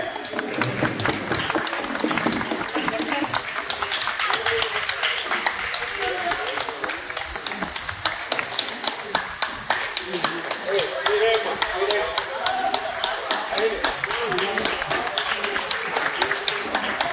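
A crowd of guests at a felicitation event for a couple exchanging flower garlands, clapping loudly and steadily throughout, with some voices heard amid the applause.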